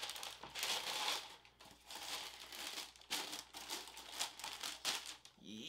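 White and black tissue paper from a Nike x Sacai VaporWaffle sneaker box crinkles and rustles in quiet, close bursts as hands unfold it, with brief pauses between handlings.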